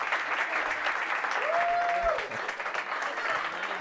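Steady audience applause fills a stand-up comedy show in Madrid, dense clapping from a crowd that holds throughout, with a short voice cutting briefly through the middle.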